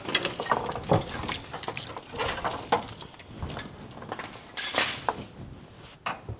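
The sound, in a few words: ratchet wrench clicking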